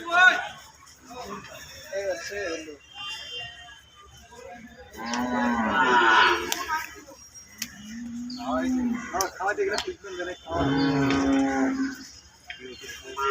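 Several long, low moos from a Jersey cow come close by, mixed with people talking in the background.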